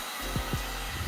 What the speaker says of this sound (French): avec le décapeur ça devrait mieux partir qu'avec le sèche-cheveux